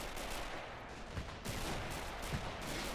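Distant, faint gunfire from an open-field firefight in Men of War Assault Squad, scattered shots and bursts popping against a dull rumbling background.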